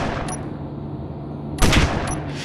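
Cannons on a small spaceship fighter in Space Engineers fire automatically, a sharp loud broadband burst near the end after a quieter stretch of hum, with a smaller shot earlier.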